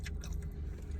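Soft broccoli served with bourbon chicken is chewed close to the mic, a brief run of faint crunchy bites and squishy mastication with no talking.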